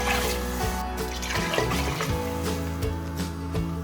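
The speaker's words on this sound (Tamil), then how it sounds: "டபுளாக தண்ணி ஊற்றிக்கலாம்." Water pours into a cooking pot holding rice, curry leaves and a little ginger for pongal, a steady splashing flow that runs loud and continuous for about four seconds with no voices.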